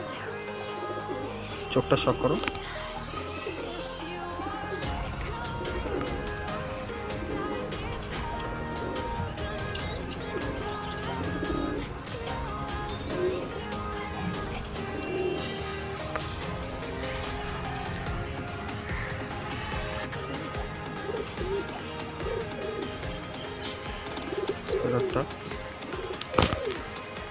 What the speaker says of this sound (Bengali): খুব সুন্দর পায়রা